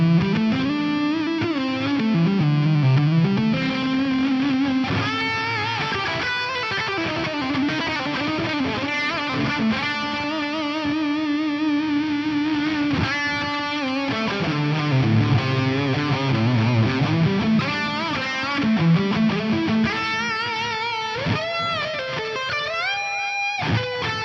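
An electric guitar played through a Fuzz Face drive on a Fractal FM3 gives thick, distorted sustained notes and bending melodic lines that run continuously and clearly without any speech.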